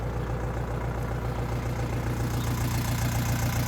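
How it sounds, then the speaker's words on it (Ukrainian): A steady, low diesel engine of a Lovol 354 tractor idles continuously with a deep rhythmic throb during garden ploughing, close by and unbroken throughout. "а трактор заїхав аж на компост."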